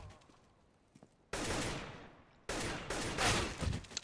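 Automatic rifle fire in a CS:GO-style shooter, two loud sustained bursts sprayed into smoke after a few quiet scattered sounds, near and sharp, with no talking.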